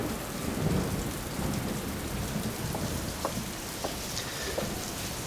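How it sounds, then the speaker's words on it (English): Heavy rain pours steadily outdoors on a British high street in Shepton Mallet during summer, a dense, continuous hiss with scattered drops tapping close by and no voices. "it's tipping with rain"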